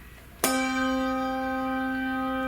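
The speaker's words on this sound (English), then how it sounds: "Well, here's a bigger bell." A large bell is struck once, its loud attack giving way to a long, clear resonant ring with sustained overtones that fades slowly.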